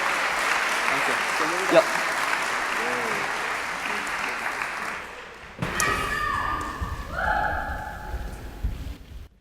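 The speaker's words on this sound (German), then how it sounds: "Euch gilt der Applaus." An audience applauds a domino-building team in a sustained, moderately loud wash of clapping, with a few people speaking briefly as it fades and is replaced by other sounds.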